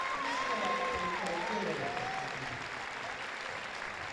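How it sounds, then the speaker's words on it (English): A futsal arena crowd applauds and cheers as the Malaysia team is introduced before the 2013 OFC Futsal Championship Invitational final against Australia, a sustained roar of clapping with a voice heard over it. "And what a cheer they get."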